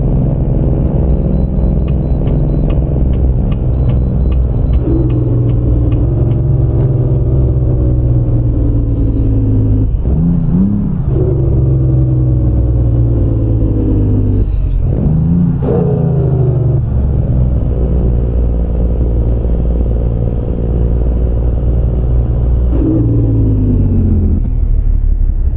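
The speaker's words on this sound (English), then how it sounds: "This is one of the engines that come with the truck itself." Peterbilt 378 truck engine from American Truck Simulator, a loud, deep diesel rumble that rises and falls through several gear shifts and revs, running continuously with a sharp dip around the middle and no talking.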